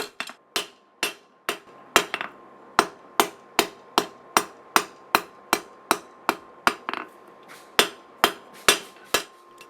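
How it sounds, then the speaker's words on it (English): Steel chef knife blade being hand-forged with a hammer on an anvil, ringing blows landing in a steady, evenly spaced rhythm, about two per second, each loud, sharp and close with a brief metallic ring, no talking. "I'm going to start forging the tip as always"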